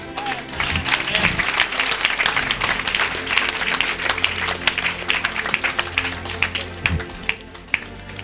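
A church congregation applauding, with dense, loud, continuous clapping from many hands throughout and a few voices rising briefly within it.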